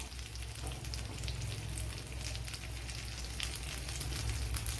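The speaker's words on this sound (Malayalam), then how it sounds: "എന്നാലും ഒന്ന് ഫ്രൈ ചെയ്തെടുക്കണമല്ലോ" Chicken for mandi fries in a pan, giving a dense, steady sizzle close by that holds even and unbroken throughout with no voices.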